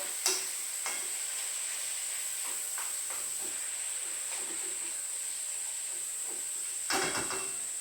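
Chilies stir-frying in a pan for pork san choy bau, a steady close hiss and sizzle with occasional scraping stirs and a louder clatter near the end.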